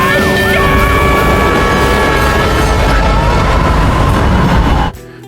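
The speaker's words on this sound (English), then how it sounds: "A red light flashed ahead at the railway crossing. A train was coming." A train rumbles loudly past a railway crossing, heavy continuous mechanical roar with steady tonal ringing and whining layered on top, cutting off abruptly near the end.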